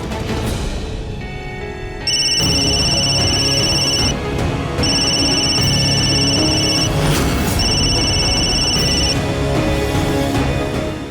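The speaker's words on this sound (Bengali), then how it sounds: "নন্দন এই সময় কেন ফোন করছো" A mobile phone rings loudly and close by in an indoor drama scene, with a repeating electronic ringtone pattern that starts after a short quiet lead-in and continues for several seconds, with no talking.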